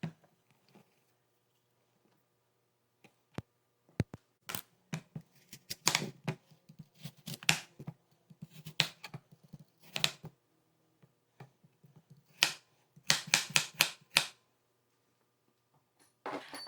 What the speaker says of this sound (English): I started off by peeling and dicing one apple